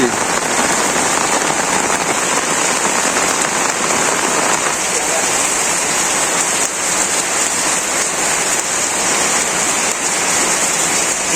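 Heavy rain pours steadily in a Bangladeshi village, a dense, continuous hiss of water drumming on surfaces that stays loud and unbroken throughout.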